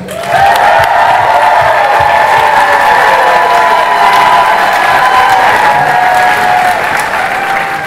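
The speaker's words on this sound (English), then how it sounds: "But why did Rick get the biggest audience applause there" A live horror convention panel audience at Midsummer Scream 2018 bursts into loud, sustained applause with some cheering, filling the room evenly for several seconds before easing slightly.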